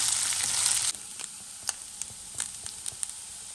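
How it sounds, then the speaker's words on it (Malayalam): Beef pieces fry in a pan for a Kerala and Andhra style beef fry, cooked toward light golden brown: a loud, dense sizzle that quickly drops to a softer hiss with scattered crackles and pops. "ഒരു light golden brown colour വരുന്നുള്ളവരെ just fry ചെയ്ത് വെക്കണം"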